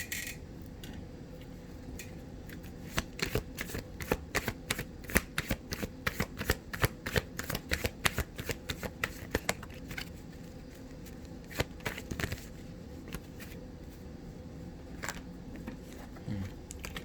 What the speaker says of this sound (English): Let me see if I can pull a few cards from the Oracle deck for you here.